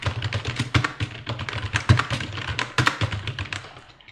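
Close, rapid typing on a computer keyboard, a dense stream of clicky keystrokes with a few sharper taps and no pauses.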